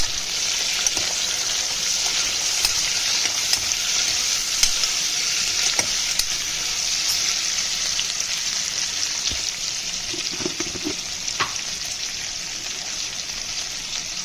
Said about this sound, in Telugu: వేసుకొని ఫ్రై చేస్తాను